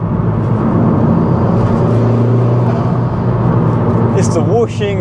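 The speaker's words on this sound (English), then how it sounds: "It's the whooshing and then the noise out the back." A Honda Civic Type R FK2 GT with a Tegiwa B-pipe drones steadily nearby with a rushing turbo whoosh, ending in a brief rising whine and exhaust burble.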